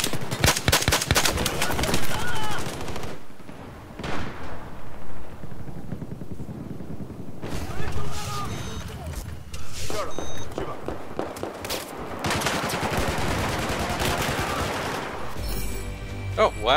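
Battlefield 4 gunfire on a crowded 64-player server: dense bursts of automatic fire and sharp shots, a quieter lull, then heavy firing again, with players talking over the chaos.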